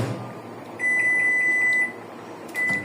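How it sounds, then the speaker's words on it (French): Microwave oven being set to 2 minutes 30 for warming bananas, a long steady electronic beep tone held for about a second, then a second short beep, faint in a quiet kitchen. "je les mets au micro-ondes 2 minutes 30"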